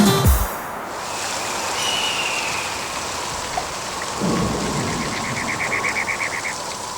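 A cartoon thunderstorm effect opens with a loud thunder crack, then settles into dense, steady heavy rain with wind, joined by faint rumbles and a brief patter of rhythmic drops.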